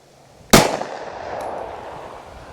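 A Sig P365 pistol fires one 9mm Sig V Crown round, a single sharp, loud report with a brief ringing tail and no talk.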